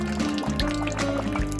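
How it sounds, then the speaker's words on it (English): Jelly pouring into a sweet mold in a kitchen, giving a continuous liquid filling and trickling sound with low gurgles and a few soft drips across the whole short stretch, close and fairly quiet. "Setting the mold and beginning to pour jelly."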